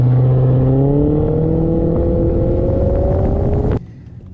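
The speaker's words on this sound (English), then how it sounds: "V8 Ferrari engine, which allows this Quattroporte to reach from 0 to 60 miles in just over 5 seconds" Maserati Quattroporte with a Ferrari-built V8 pulling hard from a standstill to 60 mph, a loud close engine note climbing steadily in pitch for nearly four seconds before cutting off abruptly.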